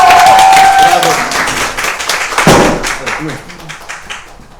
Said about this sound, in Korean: 큰 박수로 보내드리겠습니다